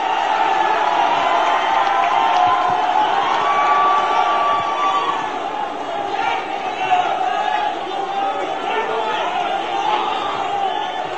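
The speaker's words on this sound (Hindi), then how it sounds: "जोरदार तालियों के साथ उनका स्वागत हम करें" A large crowd at a Congress party political rally in Madhya Pradesh cheers and shouts in a dense, continuous roar that stays loud and steady throughout, with scattered whoops rising from the mass of voices.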